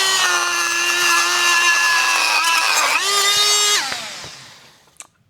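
A power tool fitted with a wood blade cuts plastic for a LARP helmet with a loud, close, high whining buzz. The pitch shifts as it bites, then the tool winds down and stops, followed by a brief knock.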